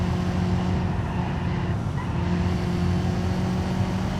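A front-wheel drive car driven hard in the video game BeamNG, a steady droning engine note that holds at an even loud level throughout with a slight dip midway, no talking over it.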